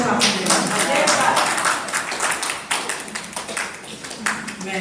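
A crowd at a Hindi comic poetry gathering claps along in steady rhythm while a woman sings over the applause.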